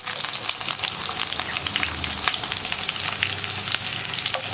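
Onion, green chili and dried red chili fry in hot oil, giving a dense, continuous crackling sizzle with sharp pops, close and steady throughout with no talk.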